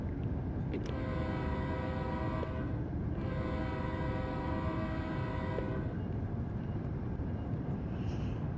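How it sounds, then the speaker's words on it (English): Horn of an Amtrak Acela high-speed train in Train Sim World 5 sounds in two long sustained blasts over steady engine rumble while passing through a station, then the rolling train noise continues alone. "Just made sure to honk the horn"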